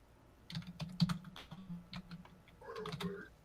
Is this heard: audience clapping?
no